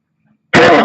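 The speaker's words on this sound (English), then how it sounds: "I have a very, very nasty cough" A single loud, close cough bursts abruptly out of silence, harsh and full-bodied.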